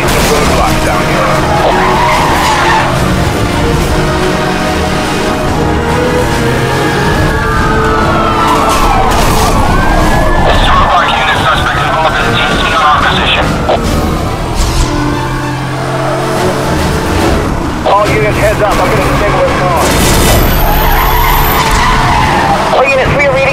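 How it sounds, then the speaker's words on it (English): Racing cars scream past at high speed with loud, sustained tire skids and squeals in the Need for Speed Hot Pursuit Remastered video game, with engines roaring close by and a siren-like wail mixed in. "have multiple cars traveling at very high speed in our direction"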